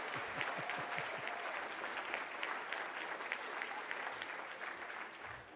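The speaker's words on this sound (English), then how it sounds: "could you give her a round of applause, please?" An audience at an awards event claps for the honoree's mother, a sustained, even round of applause from a crowd filling the whole stretch, with a brief voice near the start.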